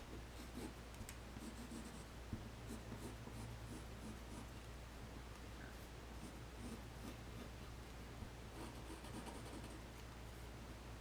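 Pencil lead scratching faintly across paper while a plush pattern is sketched out, soft continuous strokes with a few light taps over a low steady background hum.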